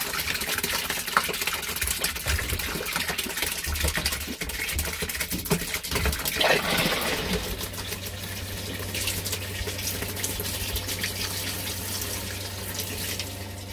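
Soapy water poured into an RV holding tank makes a steady, close rushing splash, with a low engine-like hum running underneath throughout.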